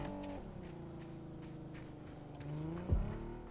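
A car engine drones steadily in the PUBG battle royale video game, rising as it accelerates, then a brief sharp skid or impact near the end, with no voices over it.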